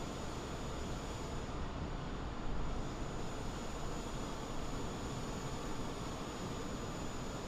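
An airliner pushing back in Microsoft Flight Simulator gives off a steady, even jet-engine roar that stays faint and unbroken throughout, with no other sounds.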